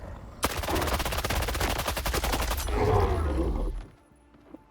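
An AKS-74U submachine gun fires in STALKER 2, a long, rapid automatic burst of closely spaced cracks lasting about three seconds, loud and close, then cutting off into a quiet tail with faint clicks.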